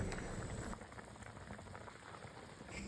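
A thin curry of eggplant and river hilsa boils on high heat, a faint, continuous bubbling fizz with soft pops, steady throughout with no talking.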